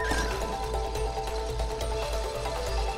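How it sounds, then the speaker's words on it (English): A horse neigh from an animal-sound puzzle in the video game It Takes Two, a short whinny over a steady musical game soundtrack with hoof-like clopping. "Horse."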